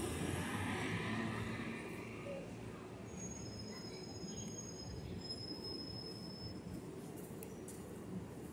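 A New York City subway train rolls along with long, thin wheel squeals rising over a steady low rumble, fairly distant and faint, continuing unbroken as the cars pass.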